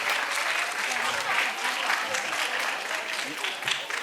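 Audience applause at an Urdu poetry event, a continuous even wash of clapping from a crowd, moderately loud throughout.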